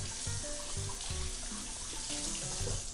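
Food is rinsed under a steady, running kitchen tap while preparing chicken fettuccine, the water splashing continuously and close by for the whole stretch, with no one talking.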